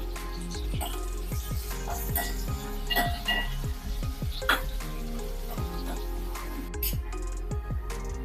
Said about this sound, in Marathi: सोनेरी रंग येईपर्यंत परतून घेऊया कांदा लवकर शिजावा त्यासाठी आपण थोडंसं मीठ टाकून घेऊया